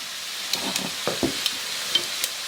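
Spices frying briefly in a pan for chicken vindaloo, a faint steady sizzle broken by several sharp clicks and taps of a utensil against the pan.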